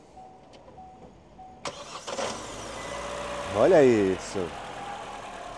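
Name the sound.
used car engine starting and idling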